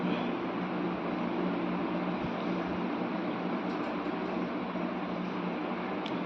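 Marinated, masala-coated fish frying in hot oil, giving a steady, loud, even sizzle with a dense hiss that holds throughout without pause.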